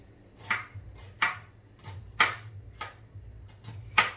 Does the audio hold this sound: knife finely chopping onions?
yes